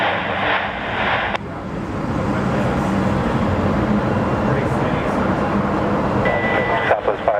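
Jet airliners at Phoenix Sky Harbor Airport give a steady, loud engine roar that fills the whole stretch, with a broadband rumble that swells slightly and no speech.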